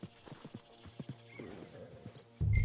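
Horse hooves clip-clopping at a steady walking rhythm in the Western open-world game Red Dead Redemption 2, close and moderately loud, with a brief whinny-like sound and a louder burst at the very end.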